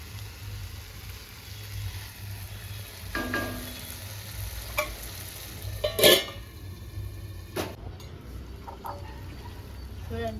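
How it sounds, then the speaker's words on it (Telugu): Tomatoes softening in a pan for a red chilli pachadi, a low soft sizzle with several sharp scraping clicks from a stirring spoon against the pan, one louder clatter near the middle. "ఇంకా కొంచెంసేపు మగ్గించుకుందామండి టమాటాని"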